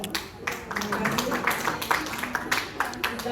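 Seminar audience in Papua bursts into applause, a scattered run of claps spread through the room, moderately loud with some voices mixed in underneath.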